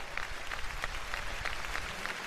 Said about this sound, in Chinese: 好多谢大家嘅掌声